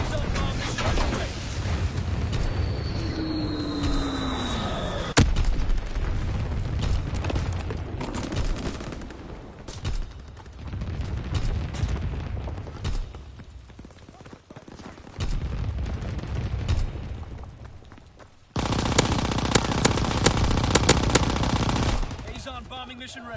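Anti-aircraft guns fire rapid bursts during a bombing mission in a video game: sustained rattling volleys and booms that alternate with quieter stretches, ending in a dense, loud barrage.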